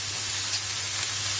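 Stir fry noodles sizzling in a pan with bean sprouts about to go in, giving a steady, close frying hiss without pause and no talking over it.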